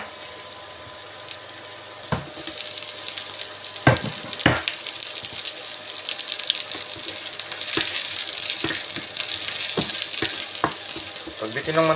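Onion and garlic fry in hot oil for traditional Filipino fried rice, a dense continuous sizzle punctuated by several clanks of a utensil stirring against the pan.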